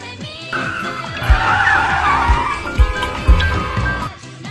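A car brakes hard and its tires squeal in a loud sustained screech, with a few thumps and knocks underneath, close and dominating the scene.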